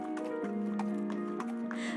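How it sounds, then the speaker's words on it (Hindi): A horse carrying a rider with sword and shield, hooves clip-clopping in a steady rhythm over sustained tonal background music, with no speech. "तलवार और ढाल के साथ घोड़े पर सवार होकर निकल पड़ी।"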